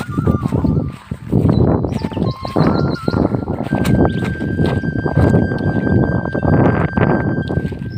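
A male horse out in farm fields, with hooves clip-clopping and snorting at close range, loud and steady throughout with no talk over it.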